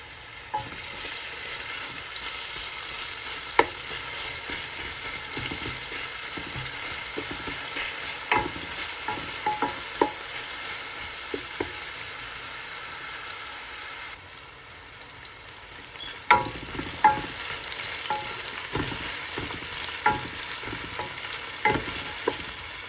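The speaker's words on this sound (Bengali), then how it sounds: "প্যান বসিয়ে তাতে কাটা পেঁয়াজগুলো দিয়ে দিলাম" Chopped onions fry in a pan with a steady hiss, broken by occasional scraping stirs and clinks of the utensil against the pan. Most strokes are spaced apart, with a few close together near the end.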